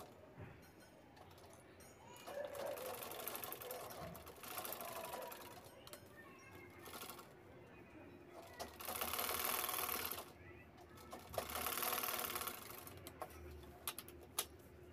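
A sewing machine stitches a simple fabric bag in short bursts of rapid ticking separated by pauses, fairly faint and close, with someone talking quietly between runs.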